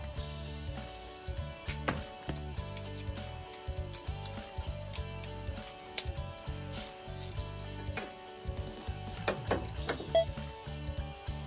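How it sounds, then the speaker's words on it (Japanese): Metal stay bracket holding an air-conditioning pipe being unbolted during a Toyota Estima engine mount replacement, with repeated ratcheting clicks, tool taps and metallic clatter, close up and irregular, no talking. "このステイをこれから外します。"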